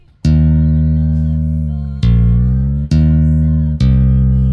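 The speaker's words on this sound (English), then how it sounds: "here's what the bass line in the track sounds like" A computer-recreated bass line from a track plays four sustained synthetic bass notes, each struck and held with a slow decay, loud and clean with no voices.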